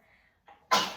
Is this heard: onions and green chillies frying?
no